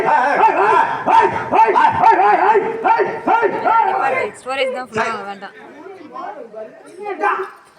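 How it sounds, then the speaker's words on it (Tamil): A street dog barks and yips amid lively human voices, with chanting and talking heard close by throughout. "நான் சொன்னது தெருவுல உள்ள நாய் தான் வந்துச்சு"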